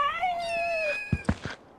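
A cat in Final Fantasy VII Rebirth gives a long, drawn-out wavering meow, followed by a few short, quieter chirps and mews, close and clear with no talk.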